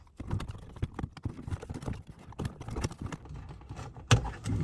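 A plastic dash cam wiring trim panel in a 2013–2018 Ram 1500 being pressed into place, giving a run of close, sharp clicks and knocks of plastic against plastic with rustling handling in between.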